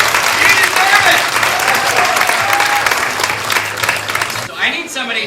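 A live audience at a magic show claps in a loud, dense round of applause for a volunteer, sustained and fading slightly toward the end, with a few voices mixed into the clapping.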